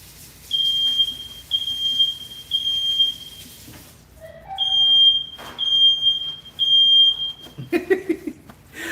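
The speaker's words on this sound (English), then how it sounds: "my fire alarm's going off. I mean, my smoke alarm" A household smoke alarm in a kitchen emits repeated shrill, steady beeps in long bursts, pausing briefly midway, with a few clattering kitchen sounds near the end.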